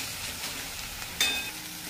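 Green chillies and peanuts fry in a small amount of oil, giving a soft, continuous sizzle with one brief, sharper clink about midway; no one speaks.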